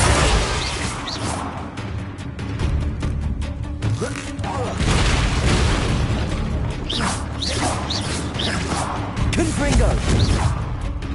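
Confringo, the fire-blast spell in Hogwarts Legacy, goes off as a sharp burst amid a dense, busy wash of game sounds, with whooshes and crashing effects around it and a voice talking over the mix.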